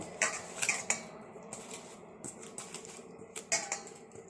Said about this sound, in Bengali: এবার এটাকে আমি খুব ভালো করে মিক্স করে নেব